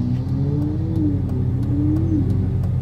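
Ferrari 488 Pista engine revving from inside the cabin with the window closed, a steady mid-pitched drone whose tone rises and falls in small swells, continuous and close.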